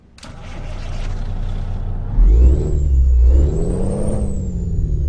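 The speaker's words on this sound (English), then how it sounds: "we will now try the Cat engine" A Kenworth W900 truck with a Cat engine in Euro Truck Simulator 2 idles with a low rumble, then revs up loudly partway through, holding a strong, rising diesel roar with a faint whine above it.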